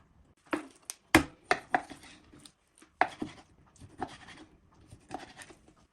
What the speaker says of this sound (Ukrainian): Нарізати м'ясо.